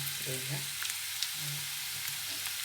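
Potatoes frying in oil with crushed seasoning and curry leaves for a Telugu aloo fry, a steady broadband sizzle running throughout with occasional stirring and a brief spoken word over it.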